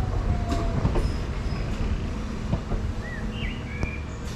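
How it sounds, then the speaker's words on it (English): A Class 375 electric train, unit 375825, runs into West St Leonards station on a Hastings to London Charing Cross service. A steady rolling rumble carries wheel clicks over the rail joints and brief high brake squeals as it slows. "there's 375825 arriving in with the 1851 service to London Charing Cross from Hastings"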